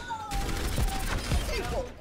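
Orisa fires her weapon in the Overwatch hero shooter, a busy burst of rapid gunfire with sharp repeated shots over a couple of seconds, mixed with game effects and other battle sounds.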